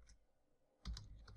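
A short pause, then a quick burst of computer keyboard taps as PHP code is typed, near and soft, with no talking.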